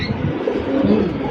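Pigeons kept for sale with eggs and chicks give soft, low cooing, close by and continuous over a moment, with no talk.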